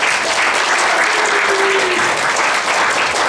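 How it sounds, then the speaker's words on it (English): Loud, sustained applause from a crowd at an anniversary remembrance gathering in San Francisco, filling the room evenly from start to finish with no talk over it. "So give them a round of applause."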